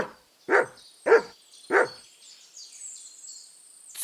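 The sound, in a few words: dog barking in Kingdom Come Deliverance 2 video game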